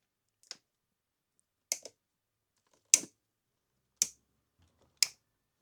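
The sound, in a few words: cutters snipping cable ties on a Ducati ignition coil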